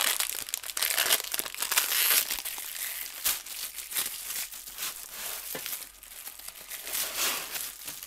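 Plastic packaging around a Gucci belt crinkles and crackles continuously as it is torn open and handled up close, with no talking.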